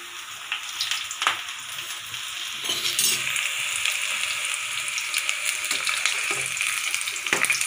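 Okra pakoda fry in hot oil in a wok with a continuous crackling sizzle, broken now and then by sharper stirring scrapes and clinks.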